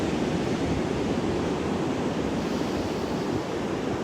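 Ocean surf on a chilly beach in the morning, a loud, steady wash of broadband noise with no distinct breaks and no voices.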